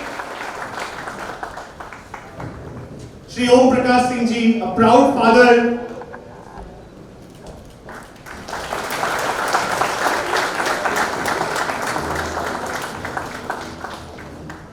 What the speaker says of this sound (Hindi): ओम प्रकाश सिंह जी के लिए एक बार जोरदार तालियां